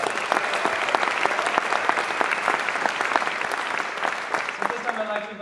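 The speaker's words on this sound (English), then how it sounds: "So please give him a round of applause." A college convocation crowd applauds, dense continuous clapping that holds steady, then tapers as a voice begins speaking near the end.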